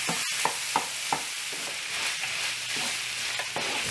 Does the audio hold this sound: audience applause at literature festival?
no